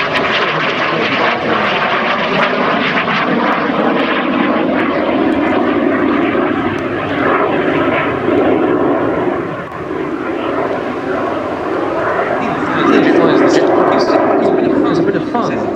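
A Jet Provost jet aircraft with a Rolls-Royce Viper 102 engine roars loudly and steadily at an airshow, its engine noise filling the whole stretch while a commentator talks over it.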